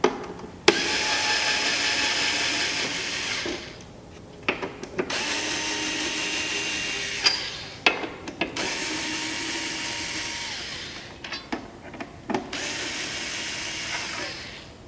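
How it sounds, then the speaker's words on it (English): A power driver whirs in several long bursts, backing out the four corner screws of a Booth Masters Mobile Mini photo booth, with brief clicks and rattles between the runs. "I'm going to go around and remove the 4 screws in each corner of the"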